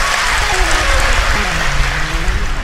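An audience claps steadily at a devotional storytelling gathering, a dense continuous patter of many hands that is fairly loud, with a voice speaking over it.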